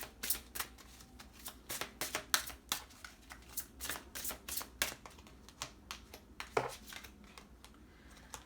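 Tarot cards riffled and shuffled by hand for a reading, a steady run of crisp, close papery flicks and snaps that continues throughout at a low, even level with no talk.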